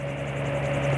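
Autogyro MTO Sport in flight on approach to a runway, a steady droning rotor and engine hum with a strong low tone, constant and close throughout with no voices.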